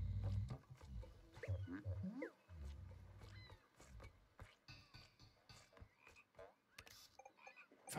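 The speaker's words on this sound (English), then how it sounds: "Look at the fucking frog." A frog croaks in the video game TOEM, a series of low, throaty calls sounding close and fairly quiet over soft game ambience, with no talking.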